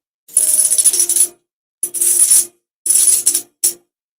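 Silver coins from a roll pour out in four bursts of bright metallic clinking and jingling, close and loud, with short pauses between pours.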